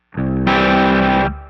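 A guitar chord rings through a Two-Rock amplifier with a Bloomfield Drive boost, jumping noticeably louder and brighter partway through, then fading after about a second of sustain.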